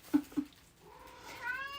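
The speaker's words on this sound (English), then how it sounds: "Your cat has a lot to say." Two short chirps followed by a long, rising meow from a nearby cat, drawn out and insistent.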